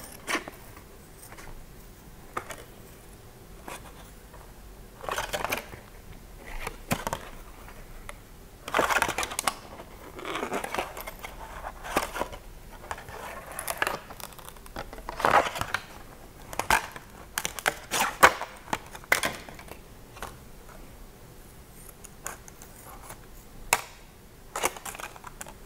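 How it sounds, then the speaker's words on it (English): Scissors snip around a moth shape cut from recycled milk bottle plastic, giving close, quiet, irregular crisp clicks and crinkles with short pauses between cuts, no voices. "And then cut around the outline."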